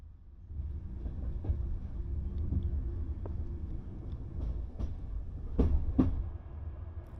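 Romanian night train pulled by a Siemens EuroSprinter locomotive rolling on rails out of Budapest, a steady low rumble with periodic clicks and clacks of wheels over rail joints, continuous and fairly close, no talking.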